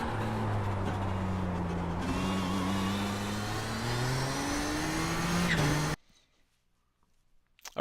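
A race car engine in iRacing at Okayama International Circuit howls at full throttle as the car straightens out, loud, steady and rising in pitch, then cuts off abruptly into near silence.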